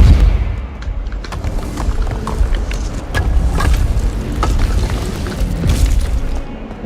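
Depulso spell cast in the Hogwarts Legacy video game, a loud rumbling blast with scattered cracks and booms over continuous low game noise, lasting several seconds with no speech.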